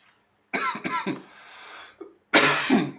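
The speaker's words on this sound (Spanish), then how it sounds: "Ya voy a terminar porque ya me agarró la tos." Several harsh coughs burst out close by, a quick cluster early on, then a long rasping breath and one louder final cough.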